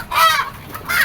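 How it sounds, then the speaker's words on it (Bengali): Rooftop farm hens squawk in alarm, two loud, harsh honking cries separated by a short pause, close by and with no talk over them. "মুরগিগুলো ভয় পেয়ে দাপাদাপি করতেছে।"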